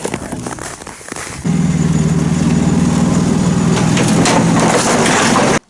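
Motorized towing sled, a motosobaka, its small engine starting up after a quieter rough moment, then running in a loud, steady, close chug until it cuts off abruptly.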